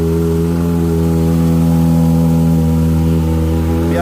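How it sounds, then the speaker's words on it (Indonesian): A Kawasaki ZX25R four-cylinder motorcycle fitted with a Yoshimura exhaust runs up close and loud, a smooth steady high-pitched drone that climbs slightly in pitch as it is held at rising revs. "ini knalpot Yoshimura saya punya"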